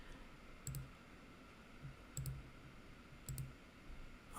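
Mouse clicks during photo editing in Lightroom, three quiet pairs of sharp clicks spaced about a second and a half apart over a soft background hiss, with no talking.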